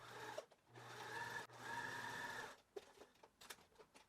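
A sewing machine stitches down the centre of elastic on a wrap skirt with a long stitch length, running in two steady bursts about a second each, close and fairly quiet, followed by brief clicks and handling noises.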